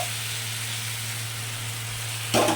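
Spices fry in a pan for an aloo dum, with potatoes and a little hot water added; a steady sizzling hiss runs throughout, then a louder burst of hissing steam near the end.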